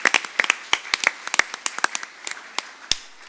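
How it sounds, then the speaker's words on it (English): Scattered hand claps from a school board meeting audience, a sparse, uneven patter of individual claps, fairly close and thinning out toward the end, with no talking. "let's give them a round of applause"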